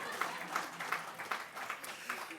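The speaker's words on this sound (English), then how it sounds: "please give a round of applause to our captionist" Audience at a disability summit keynote applauding the captionist, with fairly faint and somewhat distant clapping that comes in rhythmic bursts and a few distinct claps standing out.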